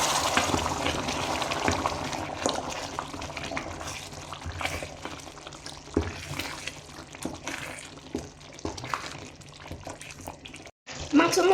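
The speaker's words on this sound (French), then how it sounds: "Maintenant, je vais mettre de l'eau chaude et puis je vais mettre ma pâte d'arachide." Hot water pouring into a cooking pot before peanut paste is stirred in, a sustained splashing and gurgling stream with clatter and knocks of the pot, ending in a brief cut.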